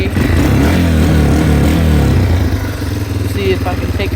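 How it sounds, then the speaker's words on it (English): A 2021 Yamaha TTR 230 dirt bike engine idles while warming up after a cold start, a loud, close, steady chugging rumble with someone talking over it. "you gotta let it warm up for a while on these bikes since they're a bigger engine."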